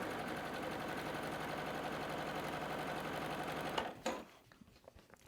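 A sewing machine stitches quilt block fabric along a blue edge during chain piecing, a steady close mechanical whir for nearly four seconds before it stops, leaving only faint handling noises and a soft bump at the end.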